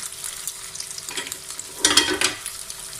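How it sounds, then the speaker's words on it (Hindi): Minced meat kebab patties sizzle in hot ghee in a pan, a steady crackling fry that swells into a louder hiss near the middle before settling, close up and with no talking. "अभी बाकी जो टिक्कियाँ हैं हमारी उनको फ्राई कर लेंगे"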